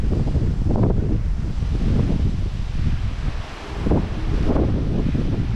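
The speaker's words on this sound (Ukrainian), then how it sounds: "ну який вітер" Strong hurricane wind in Florida roars and gusts against the microphone, rising and falling in loud buffeting waves, with nothing else heard.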